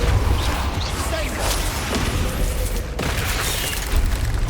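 Depulso spell cast in Hogwarts Legacy on PS5: a loud, dense burst of forceful whooshing and rumbling impact that sustains throughout, with a sharp break near the middle before the energy surges again.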